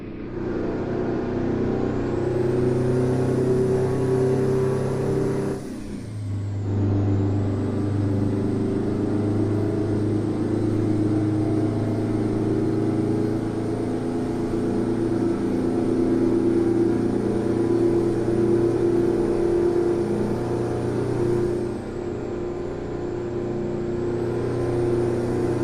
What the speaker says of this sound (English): It's probably the engine. Let me change that here a little bit. It is a pretty loud engine.